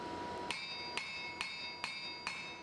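A blacksmith brings a big wide-faced hammer down on a folded hatchet held on an anvil, five sharp ringing strikes at an even pace, each with a bright metallic ring, close and alone.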